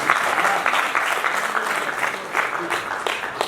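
An audience at a Bhanu Jayanti celebration in a hall claps continuously, a loud, dense wash of many hands that holds steady without pause.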